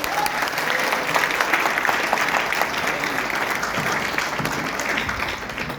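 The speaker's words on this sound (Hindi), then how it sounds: "ताली बजाओ इनके लिए एक बार।" Sustained audience applause at a live motivational speech event fills the whole stretch, dense and steady clapping from a large crowd, loud and even without a break.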